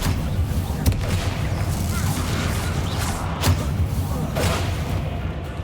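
Incendio, Bombarda and Confringo spell blasts in the video game Hogwarts Legacy, several sharp booming impacts spaced a second or so apart over a dense rumbling battle din.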